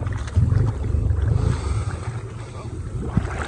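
A Honda 300 four-wheeler engine held at full throttle while riding deep through mud, giving a steady low droning roar close by, with wind buffeting and occasional speech over it.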